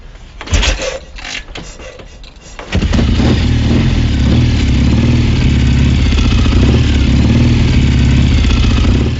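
A motorcycle engine is kicked over with a few rough, uneven thumps and clatters, then catches and settles into a loud, steady throbbing idle that runs on close by.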